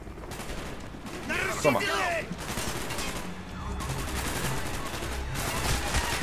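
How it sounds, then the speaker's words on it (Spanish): Bursts of automatic gunfire in the video game Call of Duty Black Ops, dense rattling volleys throughout, with a voice speaking briefly over the shooting. "Le he pegado 4 tiros al que tenía delante."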